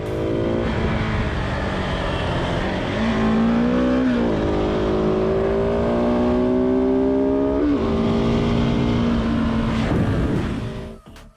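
A motorcycle overtaking a car that is turning left into a parking lot, its engine loud and close, revving and rising in pitch through several gear changes over a steady traffic roar, with no voices.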